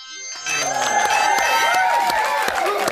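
A television studio audience at a celebrity reality show cheers and claps, starting abruptly and holding loud and steady under bright music with whoops.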